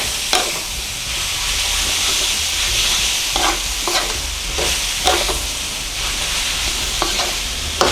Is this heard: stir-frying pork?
yes